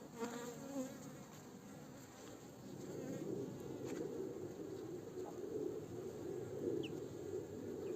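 A dense, steady buzz of many honeybees swarming close by at a hive during a winter check, the bees somewhat agitated, continuous throughout with a slight swell in intensity partway through.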